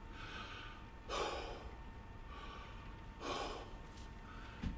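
Slow, deep breaths in and out, two long hissing exhalations spaced a couple of seconds apart, close and soft over a low background hum.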